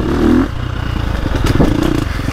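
A 2025 KTM 350 XCF dirt bike engine lugs in second gear on a woods loop, giving a close, low, throbbing exhaust pulse that rolls on smoothly, with light clatter from the trail.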